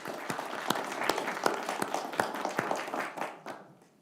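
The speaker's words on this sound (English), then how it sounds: "maybe we can suspend with the audience clapping after every question" Audience applause at a Lindon meet-the-candidates night, a steady wash of clapping from a mid-sized crowd with sharp individual claps standing out, fading away over the last half second.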